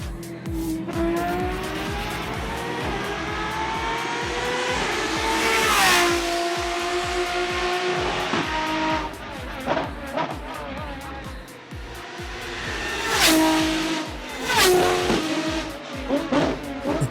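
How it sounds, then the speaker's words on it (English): Lamborghini V12 engine in Asphalt 8 revving hard through repeated climbs in pitch, with sharp shifts and tire squeals between loud, close pulls. "It's a V12, it's a Lambo V12, but it revs to hell and back."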